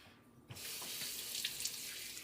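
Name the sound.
rinsing a measuring cup under the tap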